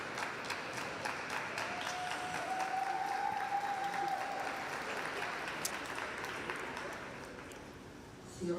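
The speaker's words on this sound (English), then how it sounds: "the Canadian team getting on the bandwagon with the clapping" A crowd applauds steadily through an ice dance rhythm dance event at a junior figure skating Grand Prix in Courchevel, with dense clapping throughout that eases slightly near the end.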